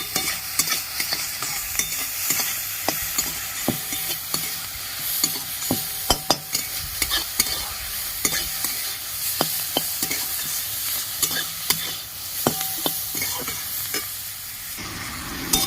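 Slit green chilli and brahmi greens fry in ghee with a continuous close sizzle, punctuated by frequent sharp clicks and scrapes of a spatula stirring against the pan.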